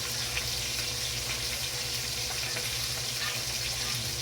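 Garlic and onion sautéing in a pan give a steady, close sizzle and crackle that runs unbroken for a few seconds, with no talking.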